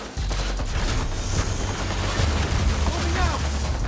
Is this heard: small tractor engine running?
no